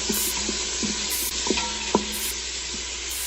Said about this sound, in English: We're gonna saute this bacon,